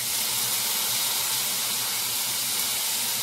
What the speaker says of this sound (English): And I'm gonna add some Worcestershire sauce.